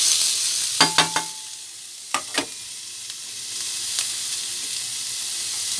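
Garlic and onions sizzling in a frying pan, a steady broadband hiss with a few sharp stirring scrapes and clinks near the start, then fainter frying continuing alone.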